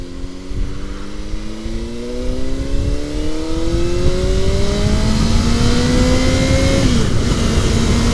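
A motorcycle engine revs up steadily with a loud exhaust note rising in pitch, then drops sharply as the throttle eases, under constant wind rumble.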